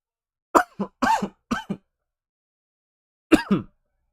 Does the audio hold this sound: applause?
no